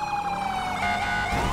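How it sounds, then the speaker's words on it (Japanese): Police car sirens wailing in GTA 5, several overlapping, with rising and falling tones in a steady chase, loud and close with no talk. "いいよ、パトカーどんどん来てる。"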